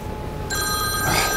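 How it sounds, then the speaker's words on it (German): A telephone bell starts ringing about a third of the way in and keeps going, a loud, steady electronic trill with no voices over it. "Telefon!"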